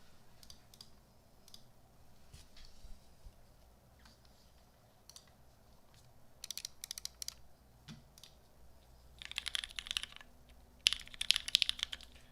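Typing on a mechanical keyboard fitted with GMK Wob keycaps and a Hangul add-on kit, no foam inside; steady, fairly quiet key clacks that grow into denser bursts of rapid clicking toward the end.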